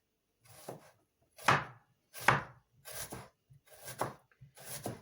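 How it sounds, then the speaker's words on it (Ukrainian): A knife slices an onion into thin rings about 2–4 mm wide on a board: six crisp, evenly spaced cuts, each a short crunch ending in a soft thud, close and clear, with no talking. "Так, як ми будемо різати цибулю?"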